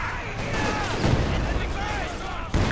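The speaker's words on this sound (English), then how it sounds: "MajorKusaetNogi getting pounded by these double zis barraging." Artillery barrage from paired ZiS guns in a Company of Heroes 2 match, a steady rumbling wash of distant booms and shell fire running throughout under faint voices.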